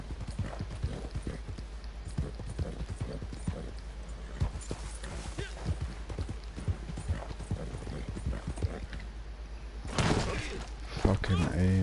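A horse gallops in a video game, its hooves clip-clopping in a rapid, steady rhythm throughout, with a brief crash near the end and faint game sounds underneath.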